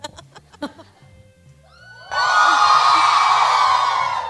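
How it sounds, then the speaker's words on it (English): A studio audience at a Rani Mukerji appearance erupts into loud, sustained cheering and whooping that swells abruptly and holds steady, preceded by a few seconds of scattered shouts and murmurs. "I think everyone started cheering for it already"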